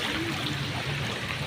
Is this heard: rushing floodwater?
yes